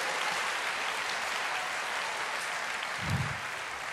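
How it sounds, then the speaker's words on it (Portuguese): A church congregation claps during a sermon, giving a short burst of steady, moderately loud applause with a low thump near the end. "Pode aplaudir"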